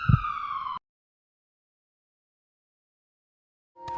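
A siren sound effect for an ambulance in a spoken story, a brief electronic wail that cuts off abruptly after under a second, then silence and another siren burst starting at the end.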